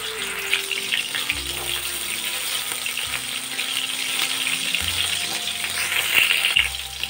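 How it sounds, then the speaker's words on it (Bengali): Marinated soybean pieces fry in a small amount of hot oil in a kadai, producing a constant, bright, close sizzle with faint low tones running underneath, no talking. "অল্প অল্প করে ম্যারিনেট করা সয়াবিনগুলো দেব আর ভেজে নেব"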